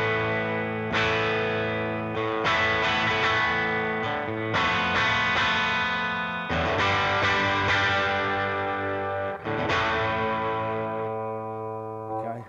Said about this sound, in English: So this is using the distortion sound.